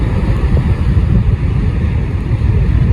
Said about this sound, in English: Look at the size of that wave.